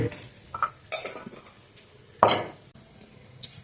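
A spoon scrapes and clinks against a bowl while dal sandwich filling is mixed with spices like amchur powder, salt and cumin, giving a few irregular close knocks and stirring sounds with no talking.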